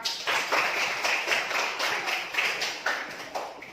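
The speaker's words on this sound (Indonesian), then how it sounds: "Tepuk tangan untuk Bapak." Students in an Indonesian classroom clap for their male teacher, a steady burst of many hands at fairly even loudness, close by and without talk.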